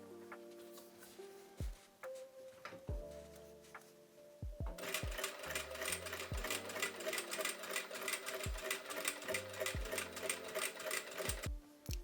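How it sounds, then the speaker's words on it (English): Sewing machine top stitching folded fabric for a feather robe, first a few scattered clicks and short runs, then a fast continuous rattling stitch that runs steadily for several seconds, close and fairly quiet. "And now I'm folding it over and top stitching."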